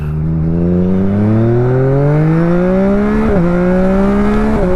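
A 2021 Yamaha MT-09 motorcycle accelerates hard over gravel in drive mode 2, its engine note climbing steadily in pitch, loud and close, with two brief gear-shift dips near the end.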